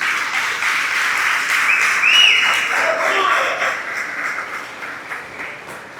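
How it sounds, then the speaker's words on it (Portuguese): A church congregation applauding during a Portuguese-language sermon, with sustained, dense clapping from many people that is loud and close, while a voice speaks over it. "Se você crê, dá um aplauso ao Senhor Jesus."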